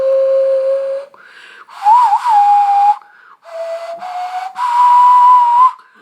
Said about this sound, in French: j'ai le droit de faire du sifflet nasal